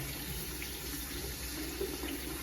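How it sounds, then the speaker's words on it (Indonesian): Water runs steadily from a tap while hands are wetted up to the wrists for handwashing, a continuous broadband hiss with faint splashes, moderately quiet and unbroken, with no voices. "buka keran air, lalu basahi tangan hingga ke pergelangan tangan"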